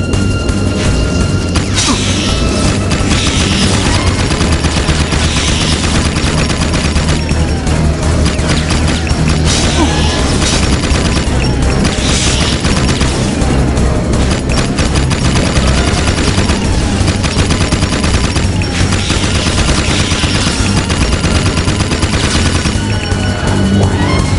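Relentless, loud rapid-fire gunfire from a powerful weapon in a Jak & Daxter video game, rattling nonstop bursts with crashes and impacts throughout.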